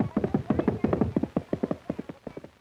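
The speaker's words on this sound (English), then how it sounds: "this is about as close to the horses as I want to get." Horses at a jousting event clip-clop in a rapid, irregular run of hoofbeats, fairly close at first and then thinning out, with faint talk in the background.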